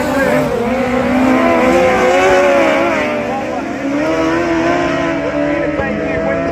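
Speedway sidecar motorcycles race in an East Coast Sidecar title event, their engines a loud, continuous roar with shifting pitch as the bikes circle the track, while a commentator talks over the noise throughout.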